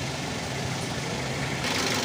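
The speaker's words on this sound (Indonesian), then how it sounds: "ini mesin sudah panas ya, sudah stabil, sudah idle ya" Car engine idling after warming up, running steady and stable during a tune-up, with a continuous low hum and broad noise close by and no talk.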